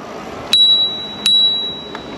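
Three crisp, bright rings of a small bicycle bell on a Super73 ZX e-bike, loud and close, evenly spaced, each with a short fading tail, the last one softer.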